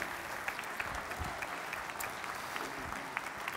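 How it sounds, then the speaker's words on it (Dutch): A crowd applauds warmly at a Dutch provincial election debate in Overijssel, with dense, continuous clapping that holds at an even level from start to finish. "Dames en heren, applaus voor Hein ter Riele."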